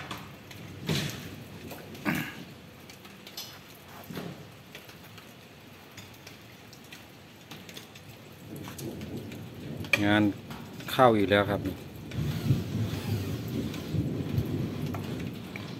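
Rain begins falling on a building site just after a concrete floor has been poured, with thunder rumbling and a few sharp crackling bursts early on. Someone speaks briefly partway through over the steady patter.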